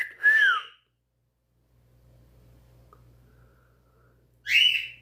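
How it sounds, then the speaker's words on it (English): A pet cockatiel gives two short, bright rising-and-falling whistles, one at the start and one near the end, with a quiet low hum between them. "He does that little flirty whistle."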